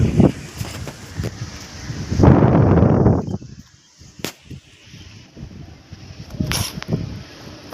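Strong wind blows outdoors in loud buffeting gusts against the microphone, a heavy roaring surge followed by calmer stretches with sharp rustling knocks.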